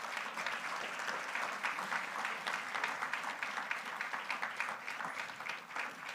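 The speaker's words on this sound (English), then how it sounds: "Give him a round of applause." A crowd at the opening ceremony of Caribbean Week of Agriculture 2023 claps in sustained, even applause that sounds somewhat distant and continues without talk.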